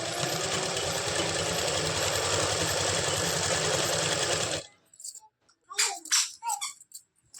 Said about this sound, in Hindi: तो सबसे पहले मैं इसमें सिलाई लगा लेती हूँ।